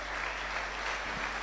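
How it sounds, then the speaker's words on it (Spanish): A church congregation claps in steady, dense applause, loud and full throughout a brief burst. "Denle un fuerte aplauso al Señor."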